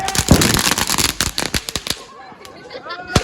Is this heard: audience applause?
no